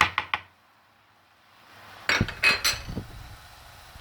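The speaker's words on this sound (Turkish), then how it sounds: "Şimdi içerisine kendi yaptığım domates salçamdan ekliyorum." Homemade tomato paste is spooned into a pan, starting with three quick metallic clinks of the spoon against the pan, then a quiet gap and a burst of scraping and clattering as the paste is stirred, close and fairly loud.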